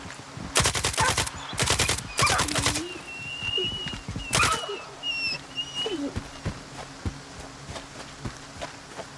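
Automatic rifle fire from the player's gun in the shooter game S.T.A.L.K.E.R. 2: Heart of Chornobyl, several loud sustained bursts followed by one more, then lighter ambient clicks and faint bird calls.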